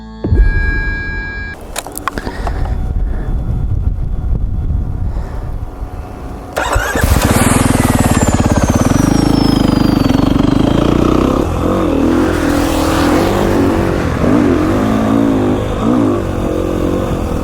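A Beta 500 RR-S dirt bike starts loudly after a few seconds of quiet handling sounds, then idles and revs up and down on a mountain lookout trail, close and dominant.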